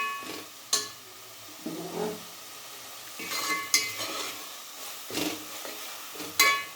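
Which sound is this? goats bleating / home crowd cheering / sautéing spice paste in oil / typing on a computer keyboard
sautéing spice paste in oil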